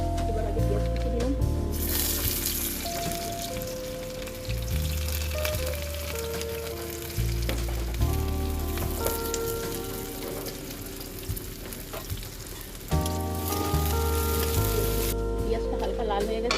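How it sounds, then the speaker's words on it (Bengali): Chopped onion fries in hot oil in a wok with a constant sizzle and occasional stirring, heard beneath steady background music. "এবার আগে পেঁয়াজ কুচি দিলাম,"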